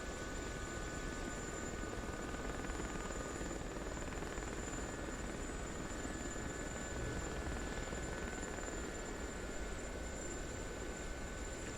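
Steady, close helicopter rotor and engine drone from a flight simulator game, continuous and even in loudness throughout with a high whine over a broad rumble, no talk.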